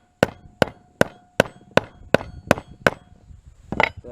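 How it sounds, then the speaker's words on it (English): Metal wrenches strike a Jeep turbocharger part in a series of about nine sharp, ringing blows at a steady beat, close and loud, with no voices. "we're just gonna beat the crap out of it with some wrenches"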